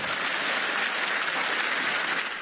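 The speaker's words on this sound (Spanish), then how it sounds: "el presidente Zelensky recibió una ovación de pie" Standing ovation for President Zelensky at the European Parliament, loud sustained applause from a large chamber audience, a dense continuous roar of clapping filling the whole moment.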